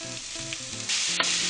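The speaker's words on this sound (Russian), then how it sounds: "Тщательно перемешиваем и жарим еще где-то 5 минут" Onion and pepper fry in sunflower oil with beetroot in a pan, giving a short burst of loud, steady sizzling with a scrape of stirring partway through.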